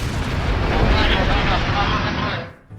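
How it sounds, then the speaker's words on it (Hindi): A heavy explosion at an Iranian oil refinery on Lavan Island, struck in an attack after a ceasefire, comes as a loud, sustained roaring rumble lasting over two seconds before cutting off abruptly. "सीज फायर के बाद ईरान के लवाना द्वीप पर हमलों से जोरदार धमाका हुआ"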